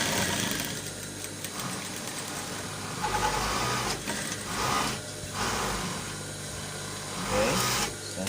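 A sewing machine stitching a waistcoat jacket, running in a steady close whir for several seconds with slight surges and a faint mechanical rattle.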